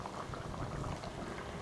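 An okra tamarind curry boils in a covered pot with a steady, dense bubbling and hiss, moderately loud and continuous, and no voices.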